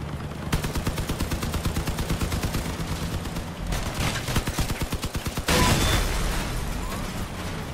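Heavy automatic cannon fire from a large armored vehicle in the vehicle combat game Crossout, rapid repeating shots in long bursts, loud and close, ending in a louder, denser barrage with no talk.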